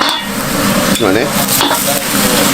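Seafood yakisoba frying on a hot griddle at a Japanese street food stall, a loud constant sizzle with metal spatulas scraping and clacking as the noodles are stirred, a voice briefly heard.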